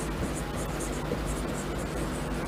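A marker squeaks and scratches across a board in short strokes, a steady close scrawl under a constant background hiss.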